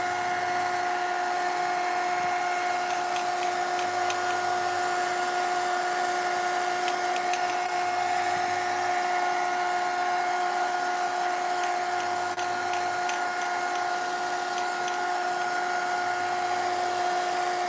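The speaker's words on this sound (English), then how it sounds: "Of course, we speed up the process with the heat gun." A heat gun blows steadily while drying gesso on a craft bunny piece, a constant whining hum with a strong tonal drone, unchanging and alone for the whole stretch.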